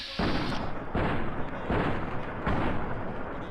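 Gunshots in Fallout New Vegas, four loud, booming shots spaced roughly evenly under a second apart, each followed by a lingering rumble.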